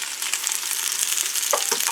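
Onion frying in an electric pressure cooker after browned beef, a brief steady crackling sizzle with a couple of soft stirring knocks near the end.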